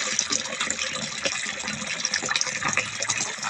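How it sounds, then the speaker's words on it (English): Water rushes steadily into a container of beans, a continuous close gushing fill with bubbling texture and no break, fairly loud throughout. "Put some water, a lot of water"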